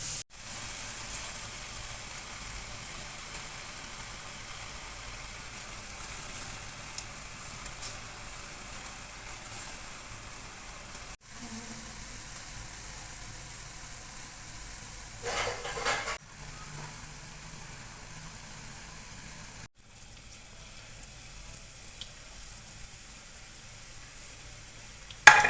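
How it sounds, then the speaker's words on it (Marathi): Boondi batter fries in very hot oil in a kadai, giving a steady, even sizzle that holds throughout, with a few brief louder bursts and short dips. "आपण कढईमध्ये तेल एकदम कडक झालेलं आहे। आता आपण टाकूया त्याच्यामध्ये जे आपण बॅटर बनवलेलं आहे बुंदीचं।"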